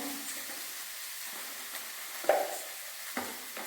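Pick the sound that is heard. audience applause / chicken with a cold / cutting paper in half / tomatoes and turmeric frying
tomatoes and turmeric frying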